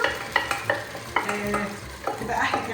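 Tomato paste sizzling in hot ghee and oil while a spoon stirs it, with repeated scraping strokes over a steady close fry and no talking.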